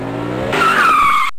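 Loud tire squeal from a racing car, a rising screech over engine roar that cuts off abruptly after about a second.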